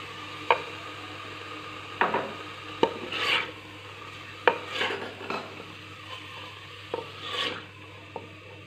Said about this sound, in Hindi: हरी मिर्चें और टमाटो पेस्ट डालकर इसे 2 से 3 मिनट के लिए भूनना है।